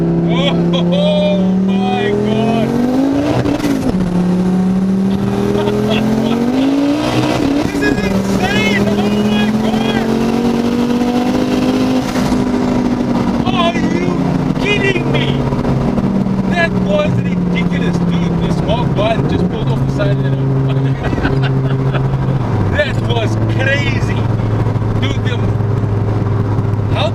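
A tuned Ford Focus ST MK2 making over 600 kW revs and climbs hard through the gears on a highway, exhaust flap open, its pitch rising and dropping with shifts, loud and close, with voices talking over it.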